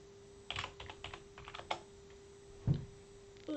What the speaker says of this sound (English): Let me type in white.